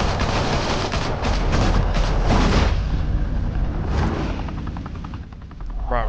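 Dense automatic gunfire fills a fight scene in Batman: The Telltale Series, loud rattling bursts over a rumbling low roar that eases off toward the end.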